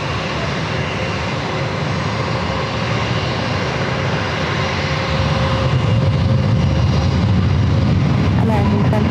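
An airliner takes off on runway 27 at San Diego airport with a loud, continuous engine roar that swells in the low end toward the end, as if passing closer.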